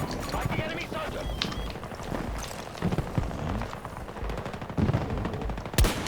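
Rapid bursts of gunfire from Battlefield 2042 in Rush mode, with close shots, repeated cracks and busy battle noise, and people talking over it.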